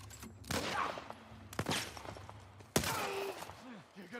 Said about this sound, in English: She's shooting them.